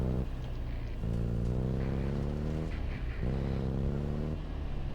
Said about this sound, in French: Oh, la voiture démarre, ok.